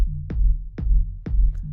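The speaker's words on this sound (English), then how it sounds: "So all together, the bass and the kick sounds like this." Electronic dance track with kick and bass under sidechain pumping: four punchy kick hits at an even tempo, each one ducking a low, sustained bass that swells back between beats.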